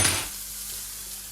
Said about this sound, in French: Ma côte, regardez, elle se colore, elle commence à cuire.